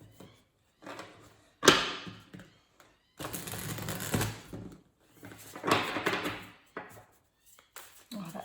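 Several bursts of crisp riffling and slapping as a deck of tarot cards is shuffled, with quiet pauses between the bursts.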